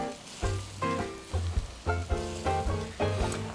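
A roux with vegetable stock being stirred in a pan for an okra dish, giving a steady sizzle and bubbling under repeated rhythmic scraping strokes, close and fairly loud, with no talk.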